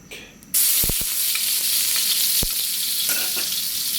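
Garlic hits hot oil in a smoking wok and a sudden loud hiss erupts, then a steady close sizzle with a few sharp clacks of the spatula, no voices.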